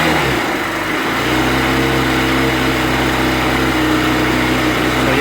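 Yamaha SZ motorcycle engine held at a steady rev, loud and continuous with a constant droning pitch after a brief shift in the first second.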